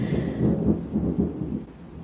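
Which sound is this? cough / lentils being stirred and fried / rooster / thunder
thunder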